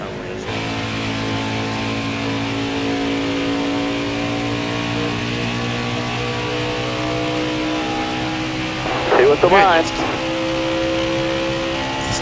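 A NASCAR race car engine drones steadily in NASCAR Heat 4, holding a constant high pitch with a brief rev surge near the end, while someone talks briefly over it.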